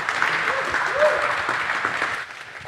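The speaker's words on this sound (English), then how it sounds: "Then another big applause." An audience at a lightning talks session applauds after a talk ends. The clapping is continuous and moderately loud, with voices murmuring underneath.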